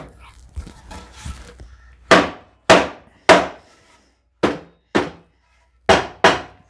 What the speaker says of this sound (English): I'm gonna have to whack it.